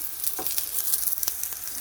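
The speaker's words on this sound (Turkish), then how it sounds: "Biraz daha kızartacağım." Tree okra (fire bush) sizzles and crackles in a hot pan, with a steady hiss and scattered pops, close up and fairly loud.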